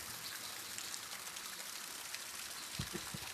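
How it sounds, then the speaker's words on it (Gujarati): Light morning rain after a night of steady downpour, a soft continuous hiss of drops and trickling water filling the background, with a few low thumps near the end. "આખી રાત આજ તો વરસાદ ચાલુ હતો અને સવારમાં થોડો ઘટાઈ ગયો હતો વરસાદ."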